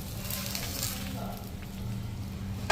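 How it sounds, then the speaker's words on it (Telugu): Curry leaves fry in oil over a low flame, a faint steady sizzle with a low hum underneath and a small clatter at the end. "తర్వాత కరివేపాకు మనము లో ఫ్లేమ్లో వీటిని ఫ్రై చేసుకోవాలి."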